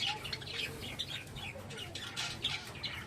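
Java sparrows and budgerigars in a breeding colony chirp and twitter continuously, a busy overlapping chorus of small bird calls close by, with no talking.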